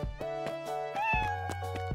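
A cat meows several times in quick succession, clear and close, with tonal, drawn-out cries and no talking.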